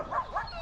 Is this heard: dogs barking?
yes